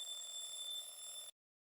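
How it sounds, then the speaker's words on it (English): An electronic alarm ringing in the Amnesia Later x Crowd video game, a steady high shrill tone with a metallic buzz, quiet and continuous, then cutting off abruptly. "Alarm?"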